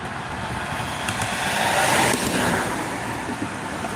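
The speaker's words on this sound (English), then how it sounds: "Gotta wait for these cars to go by." A car passes on a road beside a Texas stream, its broadband rush swelling to a peak around the middle and easing off again, steady and moderately close with no talk.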